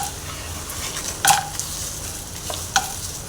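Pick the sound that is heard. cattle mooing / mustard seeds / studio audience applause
mustard seeds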